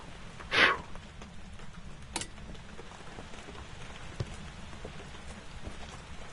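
Steady rain hisses outside a haunted house in the ghost-hunting game Phasmophobia, with a sharp crack early on and a few fainter clicks; no clear thunder rumble stands out.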